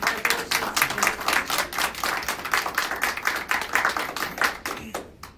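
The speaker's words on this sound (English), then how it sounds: "So we can give Anthony clap hands" A crowd claps steadily for several seconds, dense and fairly close, then the applause thins and fades out at the end.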